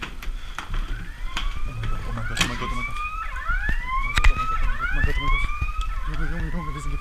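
A police siren wails in repeated rising and falling sweeps, growing louder as it approaches, over steady low traffic-like background noise.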